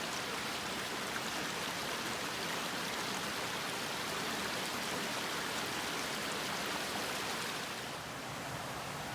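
Fern Creek flows through an old growth forest at Rockport State Park, Washington, a steady, soft rushing wash of water heard from nearby, unbroken and even throughout, with no voices.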